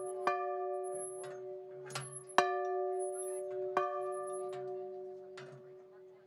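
Bell struck repeatedly at a steeplechase meet to call the horses for the first race, with bright metallic rings sounding at irregular intervals and sustaining between strikes, over faint background activity.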